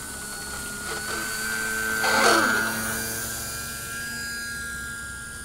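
An E-Flite Sportix electric RC model airplane on its maiden flight buzzes with a steady high motor whine that swells briefly as it passes closer, then fades back to a constant drone.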